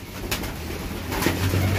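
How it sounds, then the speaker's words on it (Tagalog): A brief soft cooing of a pigeon or dove, low and close, over light background noise. "Brother Maybert, oh, gandang ibon, no?"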